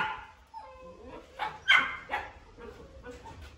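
Belgian Malinois puppy, red in color, giving a few short yips and barks mixed with thin whimpers, close and fairly quiet, with brief pauses between sounds.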